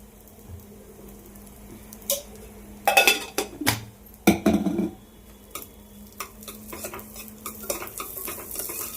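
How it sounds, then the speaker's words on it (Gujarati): Broken wheat roasts in ghee on low heat, giving a quiet sizzle under repeated scraping and clanking of a spoon against the pan, with several louder bursts of stirring. "ફાડા બ્રાઉન જેવા શેકાય ત્યાં સુધી શેકવાના ધીમા ગેસે શેકવાના"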